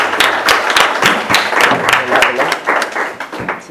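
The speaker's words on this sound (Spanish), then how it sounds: "le damos un aplauso a Mariana" Audience applause for a speaker at a daytime conference session on human trafficking and refuge, loud and steady with dense overlapping claps throughout.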